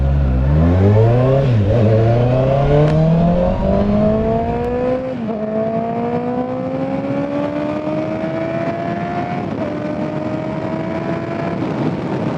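Honda CBR650R motorcycle engine revs hard and climbs steadily through the gears, a loud, close inline-four wail rising in pitch with brief dips at each shift, no talk over it.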